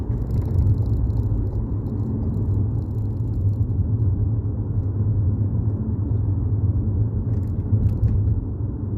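Lexus GS 450h hybrid cruising on a motorway, a steady low road rumble and engine drone from inside the cabin, even and continuous with faint higher hiss and no talking.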